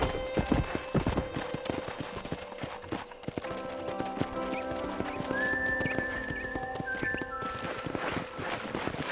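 Horse hooves clip-clop steadily in Red Dead Redemption on Xbox 360, with a whinny and music-like tones behind them, close and moderately loud.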